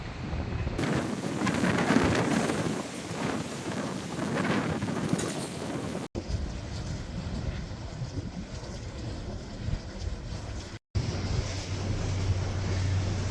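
Strong wind in Wellington, a loud, continuous rushing and buffeting roar against the microphone with gusty swells, broken by two brief cut-outs.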